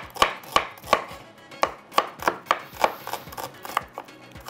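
Quick, even knife strikes finely chopping food on a board, a dozen or so sharp taps in steady rhythm, close and clear with no talking.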